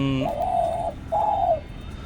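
A spotted dove coos twice nearby, two soft, drawn-out hooting notes separated by a short pause, with a faint hum behind.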